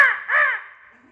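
A person's voice imitates a crow cawing, giving a short nasal caw followed by a longer drawn-out one that fades, close and alone.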